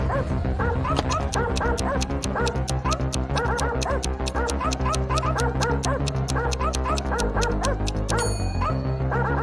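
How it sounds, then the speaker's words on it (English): A robot dog in a cartoon story barks in quick, evenly spaced yips over a dense, steady musical backing, loud and continuous throughout. "it wasn't a regular dog, it was a robot dog"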